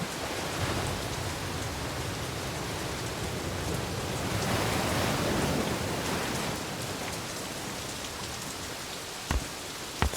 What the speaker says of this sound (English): Thanks for the rain, Efford.